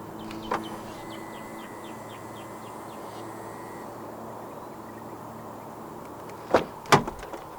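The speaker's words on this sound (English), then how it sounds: "And to unlock the car, just press the black button on the driver's side door handle again." Two quick mechanical clunks of a 2026 Proton Saga 1.5 Premium's door locks unlocking via keyless entry, close together near the end after a long stretch of quiet background hum with faint chirps.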